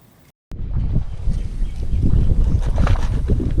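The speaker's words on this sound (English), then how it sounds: "Apologize now for the wind. I know it's blowing pretty good out here" Strong wind gusts buffet the microphone outdoors at a rifle range, a loud continuous roaring rumble that starts abruptly after a brief quiet moment and keeps building.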